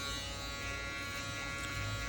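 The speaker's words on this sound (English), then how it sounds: "now with my foil shaver, I'm just going up and cleaning up all that stubble" A foil shaver cleans up stubble during a burst fade haircut, giving a steady, close electric buzz that holds unbroken throughout with no talking.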